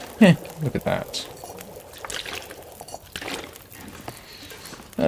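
Water pours and trickles in The Long Dark, a survival game, in short bursts at moderate level while a voice talks over it.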